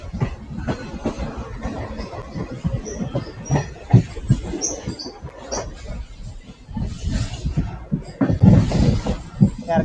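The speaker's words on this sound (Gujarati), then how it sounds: "ગજબ ટ્રેક સાઉન્ડ" The Porbandar Express (19208) runs along the track between Gondal and Virpur, giving a close, continuous rolling rumble broken by irregular clattering knocks and swells in loudness, with no talk.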